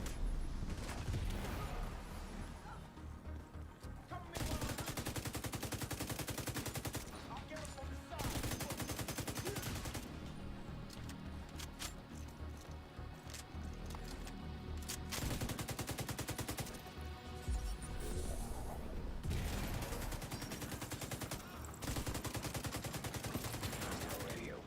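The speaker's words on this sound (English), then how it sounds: "Radio intercepted. I hear gunfire." Gunfire in The Division 2, rapid automatic bursts and fusillades rattling densely throughout under game music and effects, loud and continuous with brief gaps between volleys.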